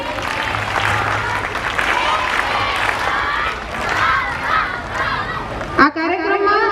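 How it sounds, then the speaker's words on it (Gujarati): A school crowd at a Rangotsav function claps and cheers continuously, with children's voices mixed in, before the applause cuts off and a single voice carries on. "આપણા ટીચર્સ માટે 3 તાળીઓ."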